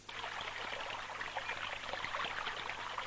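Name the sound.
water flowing in a stream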